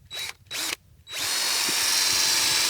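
A power drill whirs in two short bursts, pauses, then runs steadily and loud, grinding at an upward angle into a maple tree trunk to tap for sap, at close range.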